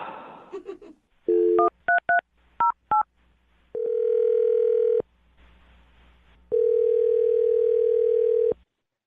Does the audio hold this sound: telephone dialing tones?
yes